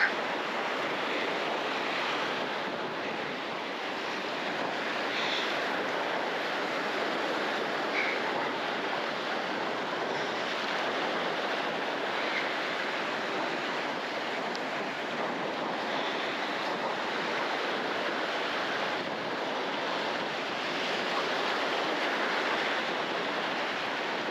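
Waves wash continuously onto Ballywalter Beach under a steady blustery wind, a broad unbroken roar with gentle swells of loudness.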